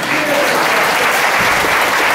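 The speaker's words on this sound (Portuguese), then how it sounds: "As palmas para Jesus." A church gathering for a men's rosary group anniversary breaks into steady, dense applause, a full crowd clapping continuously throughout.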